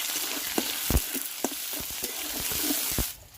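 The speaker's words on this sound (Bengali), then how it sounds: "ওই কড়াই তেলের মধ্যে দিয়ে দিলাম পাঁচ ফোড়ন তেজপাতা আর কাঁচা লঙ্কা দিয়ে দিলাম আসতেছি ভালো করে ভেজে নেব" Panch phoron, bay leaf and green chilli sizzle in hot oil in a wok, a close continuous frying hiss broken by sharp pops and crackles throughout, stopping abruptly near the end.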